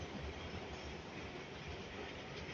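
Metro train at Lusail metro station, heard as a steady, loud rolling rumble of rail cars with a faint clickety-clack running unbroken throughout, with no voices.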